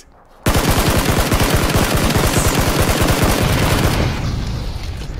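Sustained automatic gunfire in PUBG (PlayerUnknown's Battlegrounds), a loud, close, rapid stream of shots held steadily for several seconds before thinning out, with no talking over it.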